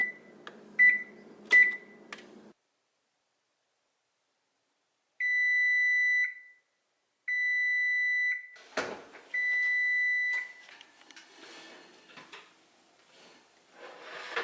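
A kitchen timer sounds while chocolate chip banana bread bakes: a few quick short beeps, a pause, then three long steady beeps, followed by some clattering kitchen handling noise.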